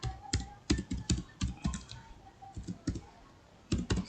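Password being typed on a computer keyboard while signing in to Cisco Webex, with irregular bursts of crisp key clicks and short pauses between them, close and clear with no talking.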